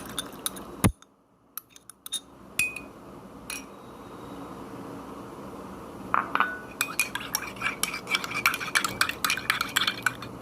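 A spoon clinks and scrapes inside a container while liquid homemade vitamin C serum ingredients, including aloe vera, are poured and stirred together. Irregular close taps and clatters quicken into a dense run of clicks toward the end, with no speech.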